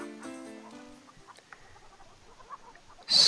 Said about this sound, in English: let's feed the chickens.